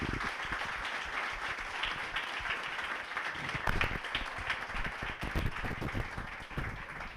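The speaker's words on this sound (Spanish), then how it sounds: "un aplauso para Rodolfo y para Iñaki, por favor." Audience applause at a Madrid startup community anniversary event, a sustained, fairly quiet patter of many hands clapping for several seconds, even in texture with occasional sharper claps.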